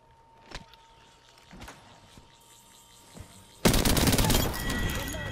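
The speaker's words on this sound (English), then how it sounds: "I'm getting shot at." Gunfire in a battle royale shooter game, a few scattered distant shots followed by a loud, sustained burst of rapid fire that keeps going to the end.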